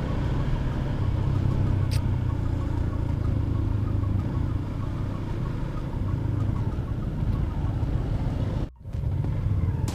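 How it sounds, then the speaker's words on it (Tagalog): Steady road traffic on the way into town in Sta. Maria, Bulacan, with cars and engines rumbling continuously nearby, a low constant drone broken only by a brief dip. "So traffic pa rin dito papasok."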